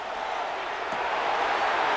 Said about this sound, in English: The Buffalo crowd being heard before 3rd down.